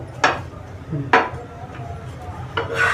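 A puran poli flatbread is flipped on a pan, bringing a few sharp metallic clinks and scrapes of utensil against the pan, spaced about a second apart over a quiet background.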